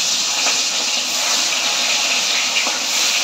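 Puti fish hissing loudly in hot oil in a wok, a dense, continuous spitting sizzle close up, with a couple of faint clicks and no speech.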